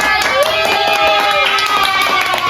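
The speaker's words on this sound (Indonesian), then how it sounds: "Yeay, benar, tepuk tangannya." Children in a classroom science lesson on series and parallel electric circuits clap their hands in a loud, busy patter, with a cheerful voice ringing out and other voices chattering through it.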